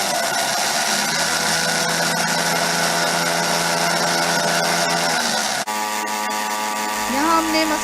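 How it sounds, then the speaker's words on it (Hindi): An electric grinder runs steadily, pulverizing a spice mix of direct-flame-roasted red chillies into fine powder; a loud continuous motor whir fills most of the clip, then cuts to a quieter hum with a brief rising tone near the end. "यहाँ हमने मसाले को जो है ग्राइंड कर लिया है, बारीकी से पीस लें।"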